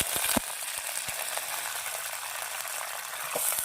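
Curry leaves sizzle and crackle in hot oil in a pan while bottle gourd poriyal is being made. A steady close fry hiss runs throughout, with sharp pops near the start and again near the end.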